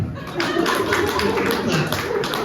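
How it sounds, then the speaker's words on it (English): Scattered audience clapping at a comedy show, a steady patter of hand claps with crowd chatter underneath, fairly close and continuous. "Clap."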